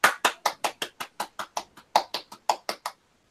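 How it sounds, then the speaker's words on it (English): A small group of hands claps in a quick, steady rhythm for a guest on a comedy show, about fourteen sharp, close claps that stop abruptly into silence. "Give him a round of applause, please."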